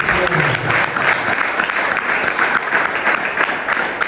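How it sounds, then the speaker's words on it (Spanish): Church congregation breaks into loud, continuous applause during a Sunday service, dense clapping sustained throughout with a few voices mixed in. "denle un fuerte aplauso al Señor"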